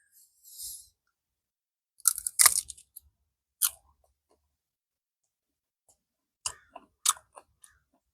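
A firm, fresh Li jujube with reddish-brown skin is bitten and chewed in a few crisp, close crunching bursts separated by quiet pauses.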